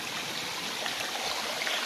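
Water flows through a small stream channel in Dumaguete, a steady close rushing and trickling that stays even throughout with no voices.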